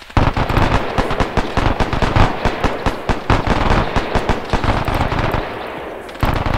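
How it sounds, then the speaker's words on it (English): Dense, rapid bursts of machine-gun fire crack out at a D-Day 75th anniversary reenactment, loud and close, with a short break before the firing resumes near the end. "We've got a machine gun, loud at 10s"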